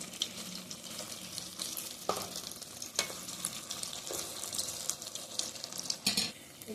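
Sabudana pakora sizzling steadily in hot frying oil, with clinks and scrapes as the pieces are turned over at intervals, close and continuous.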